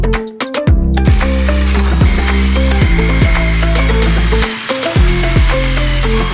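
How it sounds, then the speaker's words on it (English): Power drill boring holes in a router table, the motor spinning up and winding down in repeated short runs, loud and close with no talk. "I'm just going to drill them out."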